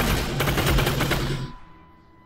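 A new gun fires in a BioShock mod for the VR game Half-Life: Alyx. A loud, rapid burst of close shots lasts about a second and a half, then cuts off and leaves a fading ring.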